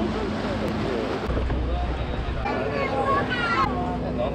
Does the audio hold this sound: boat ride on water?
yes